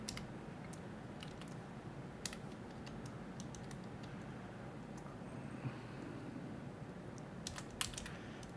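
Soft, steady clicking of computer keyboard keys in a quiet room, a run of light, irregular keystrokes with occasional slightly sharper taps, faint and continuous without any voice.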